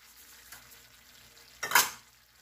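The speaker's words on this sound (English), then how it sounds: "Let's give it a good stir" Chayote squash and shrimp with soy sauce and salt are stirred in a pan, giving a soft background sizzle and then one sharp, brief scrape-and-sizzle burst near the end, with no talk.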